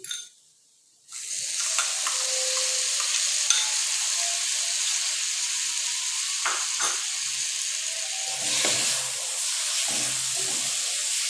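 Chopped tomatoes frying in a hot pan for an aloo dish, giving a steady, loud sizzle and hiss after a brief quiet start, with a few stirring clinks and a surge of sizzling near the end.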